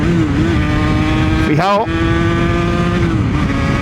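A Yamaha TZR 80 RR motorcycle engine drones loudly while riding, briefly dips as the throttle is cut, then climbs again as it accelerates, with a rider speaking over the engine and wind noise.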